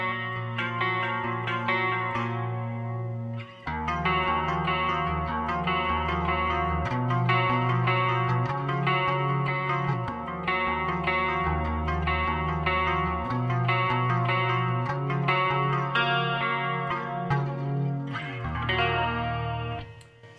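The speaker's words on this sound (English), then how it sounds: "if I'm going to use the chorus on a clean tone, I want it to still sound like a nice clean guitar" A clean electric guitar runs through the chorus effect of a Roland JC-40 amp, shimmering chords and arpeggiated notes ringing out alone, full and wide with a gentle wavering thickness.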